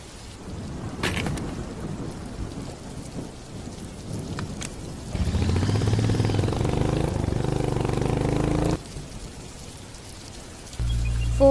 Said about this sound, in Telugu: ఈ వర్షం ఏమో ఆగి సావట్లేదు.